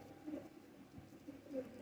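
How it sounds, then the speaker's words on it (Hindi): Soft, low coos of an old breeder pigeon repeating faintly under a murmur of background noise. "ये उस्ताद जी के शौक का कबूतर है दोस्तों"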